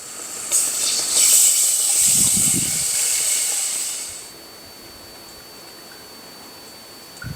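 Milk poured all at once into a hot pan holding a flour roux with salt and poultry seasoning for chicken a la king, giving a loud close hiss and sizzle for about four seconds that then dies away to quiet.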